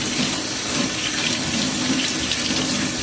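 A kitchen knife is rinsed under a running tap, and the water gushes steadily and close at a loud, even level, with no voices.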